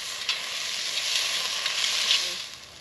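Potatoes browning in a hot pan for a campfire chilli give a steady, close sizzling hiss, with faint crackles and pops scattered through and no talking.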